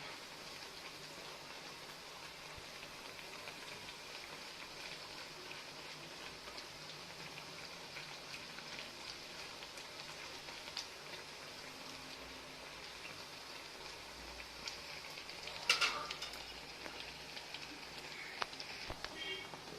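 Urad dal vada deep-frying in hot oil makes a soft, continuous bubbling crackle like light rain, fairly quiet and even, with a brief louder splash of activity near the end.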